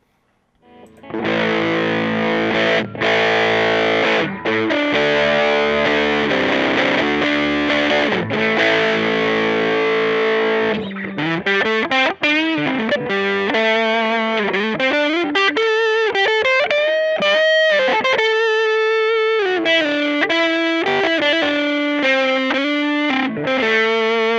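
Distorted electric guitar plays loudly, a dense chordal passage followed by single-note melodic lines with effects, steady and close with no voices.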